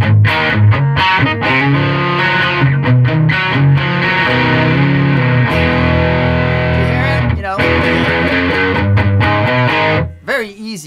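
Distorted electric guitar played loud through an Egnater Tweaker amp with a Pearly Gates pickup and pedals, a warm fuzzy tone with sustained chords and picked notes running continuously before a brief drop near the end.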